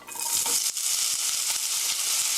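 Sliced onion hitting hot oil in a pan for a tomato sauce rice bowl, a loud dense sizzle that continues steadily with faint stirring clicks, close up and without speech.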